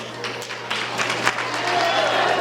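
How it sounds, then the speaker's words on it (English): Audience applause at a breast cancer awareness event, greeting women introduced onstage. A steady, moderately loud patter of many hands keeps going throughout, with a low hum and some voices mixed in. "Give them a round of applause."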